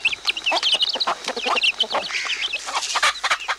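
Guinea fowl call loudly and persistently, a dense run of harsh, rapid, chattering cries close by that overlap with no pauses.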